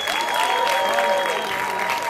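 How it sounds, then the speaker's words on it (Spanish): A film festival audience applauds an actress and producer at a special screening, with dense, continuous clapping filling the room for a couple of seconds and a voice faintly underneath. "Señoras y señores, un fuerte aplauso para la productora y primera actriz"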